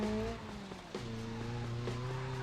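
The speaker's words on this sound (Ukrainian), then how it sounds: "Це дріфт, ви не шарите." Car drifting in BeamNG.drive, a steady engine drone with shifting pitch as revs rise and fall, one sharp step in tone partway through, moderately loud and alone.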